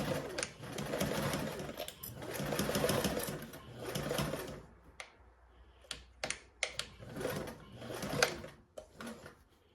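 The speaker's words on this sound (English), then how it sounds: "We're going to go ahead and sew down our sides with a 3/8 seam allowance, stopping at our markings." A sewing machine stitches the side seams of a garment with a 3/8 seam allowance in two long, steady whirring runs, followed by short bursts of stitching and clicks as it stops and restarts.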